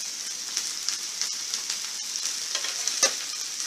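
Chicken breast and onion frying in a pan for tinga de pollo: a steady close hiss of sizzling oil with small pops and crackles, one brief louder tap near the end, no voices.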